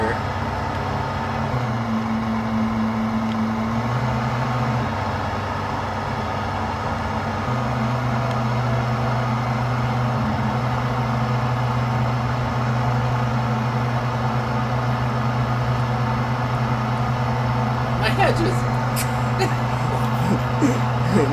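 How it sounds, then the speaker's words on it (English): Lawn mower engine idling and humming steadily in Lawn Mowing Simulator, its low tone stepping in pitch a few times, with faint talk and a few clicks near the end. "Man, it's like I'm on a real lawnmower."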